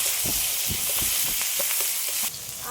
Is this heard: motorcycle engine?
no